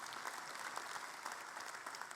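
Steady applause from an audience at an UMNO Youth assembly closing session, a brief burst of dense clapping heard at low level and from some distance.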